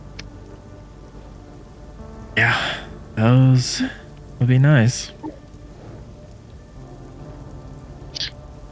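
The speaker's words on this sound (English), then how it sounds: "Can we get out of the rain?" Steady rain falling outdoors, a constant hiss of drops on surfaces running throughout, with people talking briefly over it in the middle.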